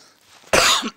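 One sharp, breathy cough bursts out after a quiet moment, loud and close, trailing off quickly.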